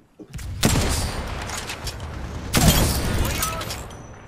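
Gunfire in Apex Legends: two loud, sharp bursts of shots, one near the start and another midway, each trailing off into a sustained rumble of continued firing, with players talking faintly underneath.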